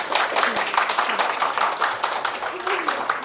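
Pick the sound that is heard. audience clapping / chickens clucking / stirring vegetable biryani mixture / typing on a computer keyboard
audience clapping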